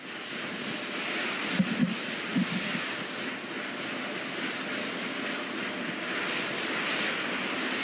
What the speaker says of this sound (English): Those are auxiliary power units, high-speed turbines, which provide pressure to hydraulic pumps that steer the RS-25 engines.